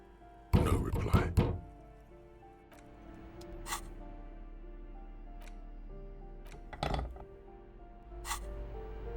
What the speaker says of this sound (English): The shackle snaps like a twig, and the lock falls to the floor with a little thud.